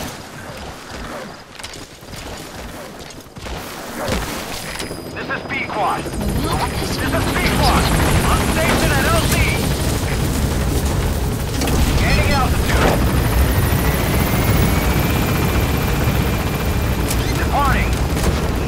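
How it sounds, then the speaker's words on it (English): The support helicopter in the Metal Gear Solid V video game arrives with rotor noise that builds from a quieter start to a loud, steady drone, mixed with game effects and a voice speaking. "Please support helicopter."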